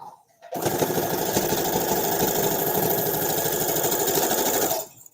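Continuous rapid stitching of a sewing machine running steadily for about four seconds, loud and close, with a dense mechanical whir that starts and stops abruptly.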